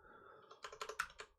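A short, quiet burst of typing on a computer keyboard, with about half a dozen close, rapid keystrokes and no talk.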